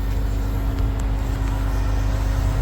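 Log trucks being unloaded produce a continuous low diesel engine rumble with steady droning and faint clanks, heard close and unbroken without any talking.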